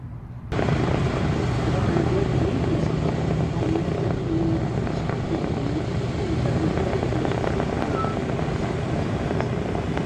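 Sally B, a vintage propeller aeroplane, rumbling nearby as it slows to a standstill, a loud, steady, throbbing engine drone that starts suddenly and holds nearly constant for about ten seconds.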